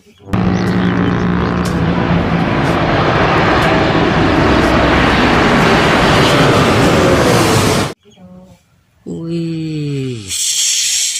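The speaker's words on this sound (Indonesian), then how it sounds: "ada pesawat terbang" A toy airplane, an airplane sound in a children's toy vehicle scene, roaring loud and steady for about eight seconds before cutting off, followed by brief tonal squeaks and a short hiss.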